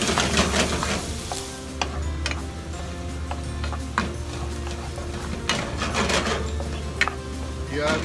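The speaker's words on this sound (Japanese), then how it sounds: "そこへニンニク、 炒めていきます" Garlic stir-frying in a pan for a lettuce stir-fry, a steady sizzle under a low hum, with scraping stirs and sharp clicks of a utensil against the pan breaking through every second or so.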